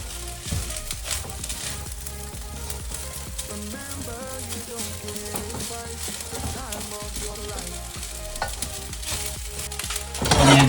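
Rice and egg stir-fried for Thai basil fried rice, a steady sizzle with scraping and clattering stirring running nearly all the way through, a bright hiss near the end.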